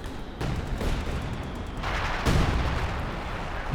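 Artillery fire in the video game Company of Heroes 2 booms and crackles in several heavy, overlapping blasts against a dense battle background, fairly loud and sustained.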